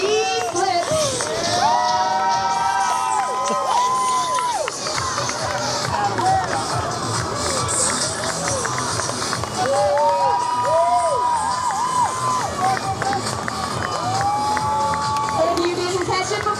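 A crowd at an outdoor flyboard stunt show cheers and shouts, with high children's voices and whoops rising and falling in a loud, continuous roar for about sixteen seconds.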